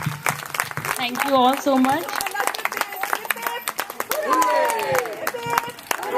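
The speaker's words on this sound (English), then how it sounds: "Big applause to her." Audience clapping at a children's Ramlila event in a housing community, a steady patter of many hands running under a speaker's thanks and chatter from the crowd.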